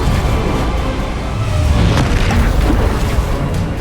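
Confringo blasting spell erupting in Hogwarts Legacy, a loud, sustained, rumbling boom with a continuous roar close up throughout, and no talking.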